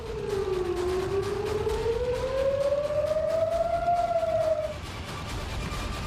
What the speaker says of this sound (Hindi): यहां पर भी जंगी सायरन सुनाई दे रहे हैं।